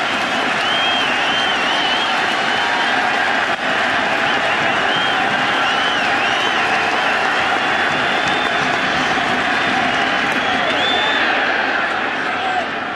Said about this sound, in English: the crowd showed up.